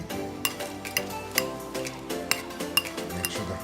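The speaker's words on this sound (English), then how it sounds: "once I mix it all together, after warming it up in the microwave, just make sure the honey is over everything" A spoon stirs warmed puppy food mixed with honey in a dish, giving repeated irregular clinks and scrapes against the bowl, close and moderately loud with no voices.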